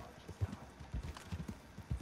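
Horse hooves clip-clopping in Red Dead Online, a steady rhythm of hollow knocks at moderate level, close by and without talk.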